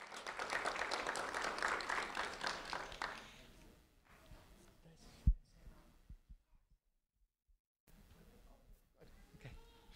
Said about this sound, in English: a round of applause for Eric Albaran Garcia